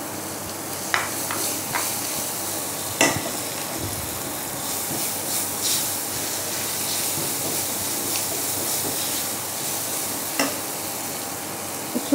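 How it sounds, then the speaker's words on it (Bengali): Chopped onion fries in a pan of hot oil with a steady, close sizzle, a few sharper crackles and scrapes from stirring rising above the hiss. "এই পেঁয়াজটা একটু ভেজে নেব।"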